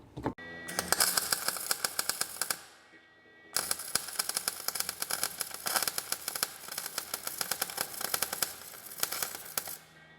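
A nut being welded onto a Duramax turbo part gives long stretches of loud crackling, sizzling arc with irregular pops, broken by a short pause, close up and with no talking.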